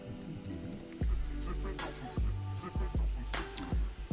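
Someone types on a computer keyboard with sharp, irregular clicks and clacks in short bursts, close and fairly quiet, with no speech.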